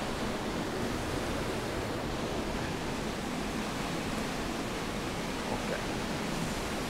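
A waterfall inside a cave near Premilcuore roars as a steady, dense rush of falling water, loud and unbroken throughout, with no voices.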